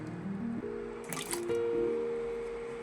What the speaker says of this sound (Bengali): সবটাই কিন্তু আমি ঠান্ডা জলের মধ্যে রেখে দিলাম